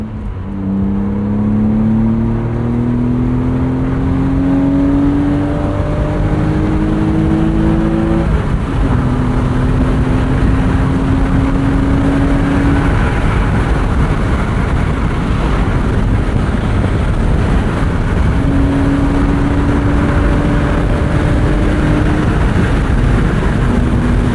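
A 1999 BMW M Roadster engine revs hard and climbs in pitch through several gear shifts, loud and sustained under heavy wind rush, no voices.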